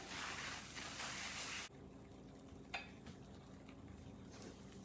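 Gram flour (besan) stirred and roasted in a pan for barfi, giving a soft continuous scraping and faint sizzle; a brief louder burst of stirring in the first second and a half, then quieter steady scraping with an occasional clink.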